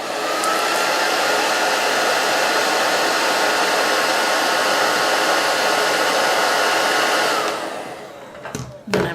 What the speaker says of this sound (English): you'll want to do one more heat with the blow dryer, and I just leave it on until it gets uncomfortably warm